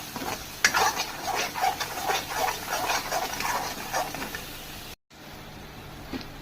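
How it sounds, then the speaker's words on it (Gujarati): A spoon stirs cashew masala curry in a pan for a restaurant-style kaju shaak, giving repeated scraping, wet swishing strokes with a faint sizzle. The strokes come close and fairly loud, then stop after a short break. "હવે હું આને પણ મિક્સ કરી દઈશ."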